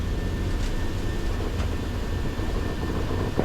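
A Boeing 737-700's engines roar at takeoff thrust, heard from inside the cockpit as a loud, steady, broadband rumble and rush with a faint thin whine, with no voices.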